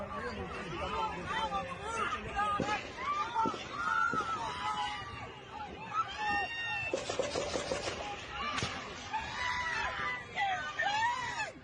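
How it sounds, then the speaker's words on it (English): Panicked crowd at a Trump rally after shots are fired, with many voices screaming and shouting over one another in overlapping, wavering cries, loud and chaotic throughout. "we don't need to listen to too much of the screaming, but because there's quite a bit of it"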